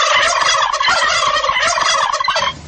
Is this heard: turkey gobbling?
yes